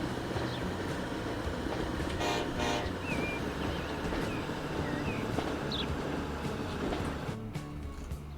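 A train runs steadily along the track in the video game Transport Fever 2, a continuous rolling rumble with faint high squeals and a short horn-like toot, with no talking.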